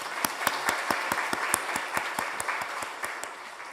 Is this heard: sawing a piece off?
no